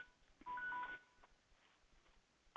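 A phone reminder alert rings out from a new phone that was set to silent, as a short electronic tone burst followed by a second beep starting at the very end, in a quiet room.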